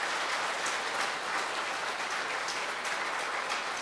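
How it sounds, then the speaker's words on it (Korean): A Catholic church congregation applauds a priest after his talk, steady, even clapping from many hands, moderately loud and continuous, with no voices. "이 시간 이끌어 주신 신호철 비호 신부님께 다시 한번 감사의 박수를 드립니다."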